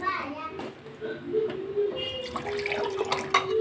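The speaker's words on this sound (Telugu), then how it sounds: "ఇందులో రెండు కప్పులో వాటర్ అయితే వేసేసుకోవాలి" Water is poured into a pot of rice for pulao, a continuous splashing pour heard close by while voices talk in the background.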